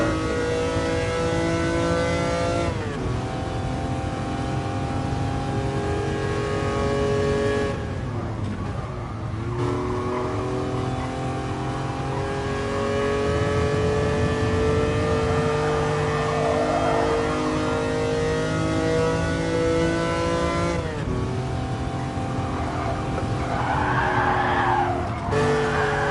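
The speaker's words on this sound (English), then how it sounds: "A rev-happy, Group B homologated rally car." A Lancia Stratos, a rev-happy Group B homologated rally car, in GT Sport, its engine droning and revving steadily with rising and falling harmonics, loud and close, along with occasional tire squeal and skidding.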